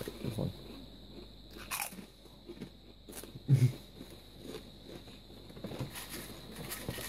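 Walkers Extra Crunchy crisps being bitten and chewed close up, with a few crisp crunches and one louder bite standing out over quiet mouth noise and faint background murmur.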